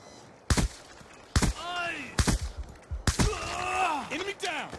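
A Tac-45 handgun in Black Ops 2 fires four sharp, loud single shots spaced about a second apart. Each shot is followed by a descending whine and a ringing tail, and short voice callouts come in between.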